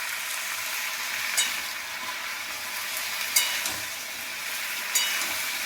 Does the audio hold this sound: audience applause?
no